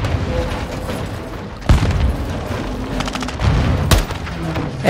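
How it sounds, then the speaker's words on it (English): Several deep booming blasts from grenade launcher rounds in Call of Duty: Modern Warfare 2, loud and spaced about a second or two apart over a constant background of combat noise. "They're launching grenades"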